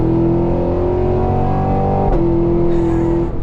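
A Cadillac Escalade V engine holds a loud, steady throttle with a strong droning tone, then briefly dips as it shifts and settles into a higher, even drone.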